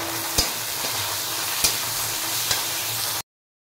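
Green chillies and onions sizzle steadily in hot oil, a loud close hiss broken by three sharp scraping stirs of the spatula against the pan.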